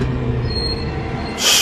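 An Edinburgh tram at the airport tram stop gives off a steady low rumble with faint high whining tones, ending in a sudden bright hiss like released air or brakes.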